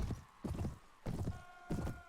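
Horses charge across a battlefield in Viking Conquest, the Mount & Blade Warband DLC, a rapid clip-clop of hooves pounding in bursts, moderately distant under a steady wash of battle noise.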